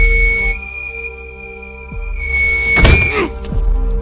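A whistle blown in a film scene to summon a pack of wolves, a steady shrill tone held for several seconds with a squeal and a thud near the end.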